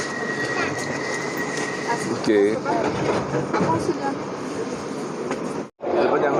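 An underground train in the UK rumbles as it climbs toward ground level, a continuous loud roar with a brief squeal partway through and a sudden momentary cutout near the end.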